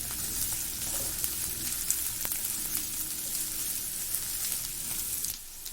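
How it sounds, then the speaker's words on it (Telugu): Onions frying in oil with salt in a pan, a steady close hiss and crackle with fine pops that runs throughout, easing slightly at the very end. "ఆనియన్స్ ఫ్రై అవుతున్నాయి."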